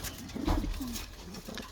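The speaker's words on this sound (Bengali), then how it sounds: "আর এখানে কিছু কবুতর আছে" Caged pigeons give a soft, low coo once or twice nearby, faint against a hissy background. The coos are short and muffled.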